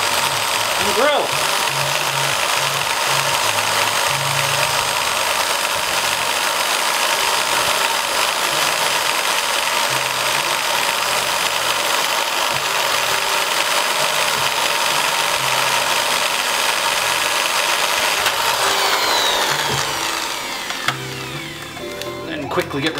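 A drill bores holes into the plastic shell of a Sega Mega Drive II console, a steady, close, grinding whir that holds for about twenty seconds before it winds down and stops.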